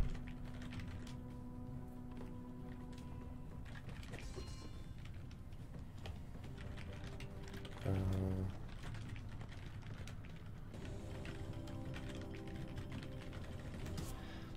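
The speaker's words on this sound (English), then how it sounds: "I'm sorry that I keep typing" Computer keyboard typing during a slot game session, a steady patter of keystrokes running throughout beneath game music and chimes, with a brief louder burst partway through.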